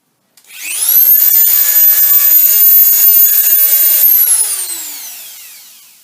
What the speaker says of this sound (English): I've just got like a beehive shaped cutter on this Dremel.